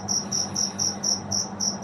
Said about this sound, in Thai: เนื่องจากว่ามีจิ้งหรีด เข้ามาร่วมรายการตลอดรายการเลย